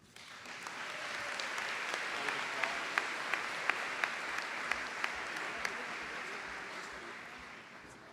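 A large audience applauds at the Sanford School of Public Policy's 2013 undergraduate graduation ceremony, with steady, dense clapping sustained throughout and a few sharper individual claps standing out near the middle.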